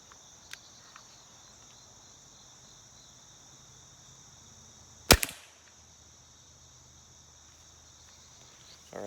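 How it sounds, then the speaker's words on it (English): A crossbow fires one sharp, loud shot that snaps out against steady outdoor cricket chirping, with a few faint clicks before it. "We're gonna go ahead and fire a shot off here."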